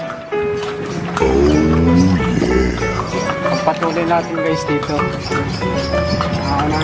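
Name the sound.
horse pulling a kalesa carriage, clip-clop of hooves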